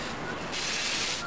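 Paint sprayed from a can as overspray around the edges of a kid-friendly water feature terrain craft piece, a soft steady hiss that grows stronger midway and continues close by.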